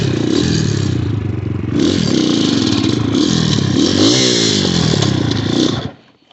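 A 250cc dirtbike engine with a fan-boosted air intake runs loud and close, holding a steady rasping drone with rising and falling revs and a few clattering mechanical scrapes before cutting off abruptly at the end.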